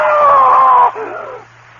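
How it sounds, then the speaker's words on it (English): A man in a radio drama lets out one loud, sustained scream that breaks off abruptly and trails into a fading echo. "I screamed. I screamed so loudly there was blood in my throat."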